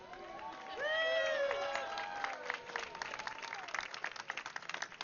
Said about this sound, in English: please stomp your feet, clap your hands, go crazy for John Boychuk!